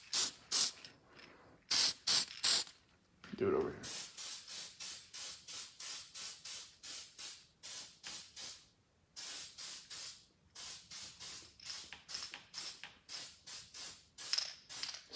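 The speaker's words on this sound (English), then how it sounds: "So we'll spray both sides of this." Aerosol spray coating both sides of a golf cart head gasket during an engine rebuild, a run of sharp, close hissing bursts in a repeated rhythm, with a brief spoken remark early on.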